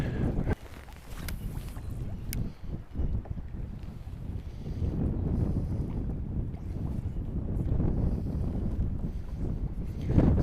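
Wind buffets the microphone with a continuous low roar and gusty rumble while kayak fishing on open water, close and loud throughout, with no speech.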